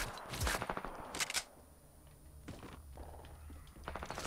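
AK47 heavy assault rifle firing in a video game: a few loud, sharp bursts near the start, then quieter background game noise with another burst at the end, no talk.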